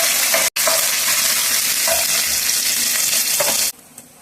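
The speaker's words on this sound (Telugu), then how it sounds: "కొత్తిమీర, పుదీనా వేసుకొని ఒకసారి కలిపేసుకోండి" Fresh coriander and mint are stirred into a hot frying pan for a home-style fish fry, giving a loud, continuous sizzle with scraping stirs. It breaks off briefly once, then drops to a quiet hiss at the end.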